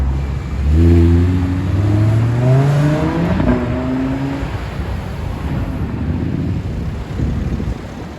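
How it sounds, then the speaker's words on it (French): A Ferrari Pista Piloti supercar pulls away on a Paris street, its engine note rising loudly through a couple of quick gear changes before fading into wind and traffic noise. "Écoutez le bruit de la pista piloti au démarrage"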